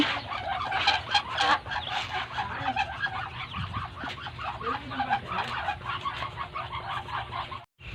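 A flock of muscovy ducklings waits to be fed, making a dense, continuous chorus of high peeping and chirping calls at close range, with soft shuffling beneath.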